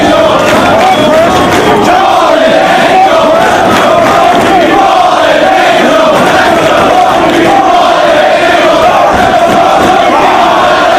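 A wrestling arena crowd at ROH Tag Wars roars steadily behind Christopher Daniels during his match against Low Ki, a loud, dense wall of cheering and shouting that never lets up.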